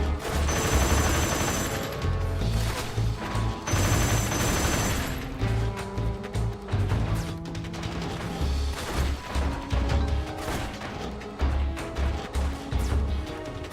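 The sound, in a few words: gunfire in a video game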